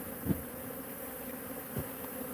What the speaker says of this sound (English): all these bees that are flying around and that were out in the field are going to come back